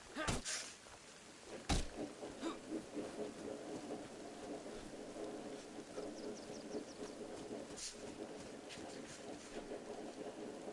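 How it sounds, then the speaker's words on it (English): Steady rain hisses throughout in the survival game DayZ, with a couple of sharp thunder cracks early on and a faint voice murmuring beneath the downpour. "The rain is just so annoying in this game."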